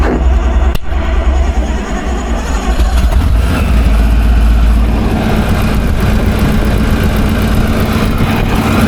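A Rotec Renegade radial aircraft engine runs steadily and loudly from start to finish, a dense, constant engine roar with no pauses.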